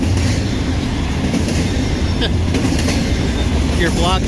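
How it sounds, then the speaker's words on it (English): A slow freight train passes close by on a Chicago-area line, a loud continuous rumble of rolling wagons with faint wheel squeals near the end. "the slow moving freight"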